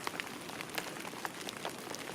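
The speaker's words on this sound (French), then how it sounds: "Ah non mais là il pleut trop." Rain pattering steadily outdoors, a dense hiss of drops with scattered individual taps striking a nearby surface, fairly quiet and with no voices.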